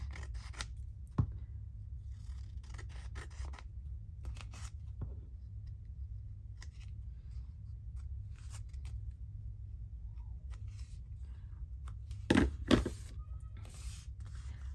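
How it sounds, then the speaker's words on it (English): Scissors trim the bottom edge of a torn book page in a quiet room, a few sparse crisp snips and rustles spread across the stretch, with a louder cluster of cuts near the end. "I am going to trim off the bottom because it's going to be too tall"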